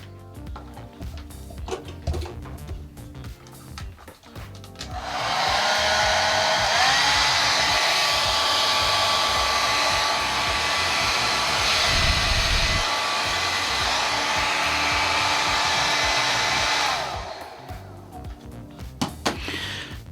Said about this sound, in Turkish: Yaklaşık 1200 watt gücünde de bir saç kurutma makinesi var.